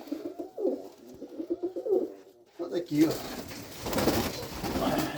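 Soft pigeon cooing close by in Mariupol, low throaty murmurs repeating between bits of quiet speech, then a noisier stretch with more cooing underneath.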